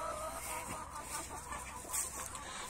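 Hens cluck softly and continuously in a coop, a low murmuring chorus of birds at moderate distance with no one speaking.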